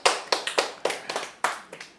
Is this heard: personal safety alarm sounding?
no